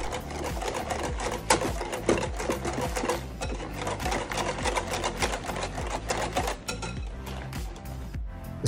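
A whisk quickly beats milk into an egg yolk mixture for pastry cream, making a fast, steady, close clatter against the bowl that continues without pause and without talking.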